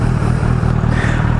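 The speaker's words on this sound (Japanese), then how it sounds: "スッとエンジンかかりますよ" Kawasaki Z900RS motorcycle with its stock muffler idling steadily, a close, loud, even low-pitched engine pulse with regular firing rhythm throughout.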